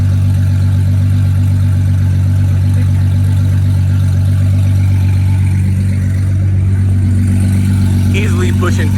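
An 1800hp Nissan GTR engine runs with a loud, heavy, sustained low drone, idling close by while people talk over it, building slightly toward the end.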